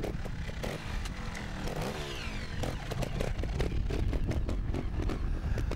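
A 250 trials motorcycle engine runs close by at a teen trials event, a steady buzzing idle that picks up with a few sharper revs and clattering bursts toward the end.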